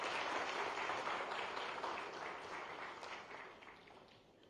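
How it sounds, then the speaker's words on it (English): Audience applause at a Gandhinagar government MoU signing ceremony, a steady wash of many hands clapping that gradually fades toward the end, with no talk over it. "Please give sir a round of applause."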